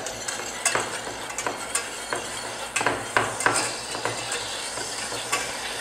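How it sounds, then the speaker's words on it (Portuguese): Onion frying in a pan for a sauce, a continuous close sizzle broken by repeated sharp scrapes and clicks of a utensil stirring against the pan, with no talking. "agora esse pode deixar fritar mais"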